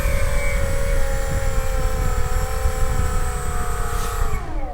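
Rimfire 46 brushless motor on a test stand, spinning steadily with a loud, sustained high-pitched whine and whirring airflow, its tone easing slightly lower near the end.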